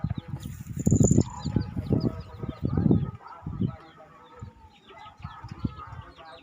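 Chickens cluck and murmur in a low, irregular stream, with faint higher peeps from six newly added chicks scattered through, close by and fairly soft.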